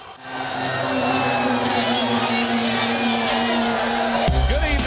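A packed stadium crowd at Game 4 of the 2008 World Series roars in a steady, loud wash of cheering and shouting that swells near the end.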